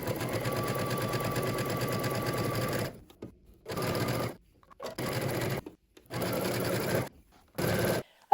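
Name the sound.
sewing machine stitching a narrow zigzag casing on mesh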